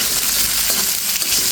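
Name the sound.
potatoes and okra frying in pan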